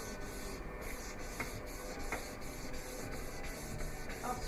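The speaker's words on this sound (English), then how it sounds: "I'm going to take my rubber backed sanding thing, and I'm going to move in strokes along the length of the blade." A rubber-backed sanding block with 320 grit paper strokes along a knife blade, giving a soft, rhythmic scratchy rasp that repeats in even passes, faint and close with no voices.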